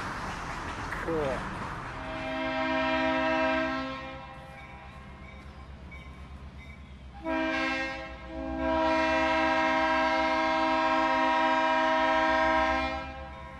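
A Southern Railway locomotive horn blares in long sustained chords, twice, over the heavy rumble of the train engine passing nearby.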